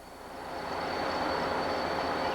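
D&H freight train with its engines running on the Norfolk Southern Buffalo Line main: a steady rumble and roar that swells gradually louder over a couple of seconds, heard alone without voices.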